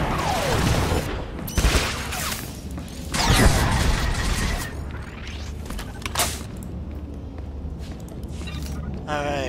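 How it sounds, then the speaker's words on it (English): Mortar volley blasts from a Republic Trooper's grenade launcher in Star Wars: The Old Republic, several loud booming bursts spread across the stretch amid clattering mechanical effects and a busy game-battle background. "Give him a mortar volley."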